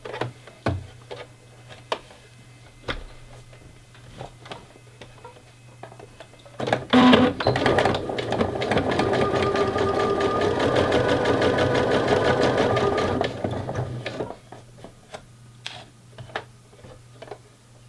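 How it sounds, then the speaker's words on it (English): A sewing machine runs a straight-stitch crotch seam on panties with a 5 mm seam allowance, humming steadily for about six seconds after some faint clicks and handling noises. "So now what I'm going to do is just sew this seam with a straight stitch just straight across"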